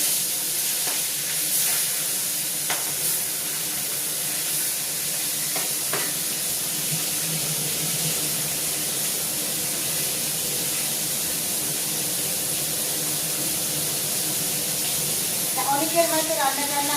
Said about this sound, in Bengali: এবার মাছটা আমি বেশ একটু লাল লাল করে ভেজে নেব।